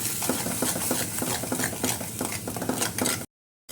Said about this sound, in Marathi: धनेपूड घालायचे जिरेपूड घालायचे हळद घालायचं मिक्स करून घ्यायचं तुम्ही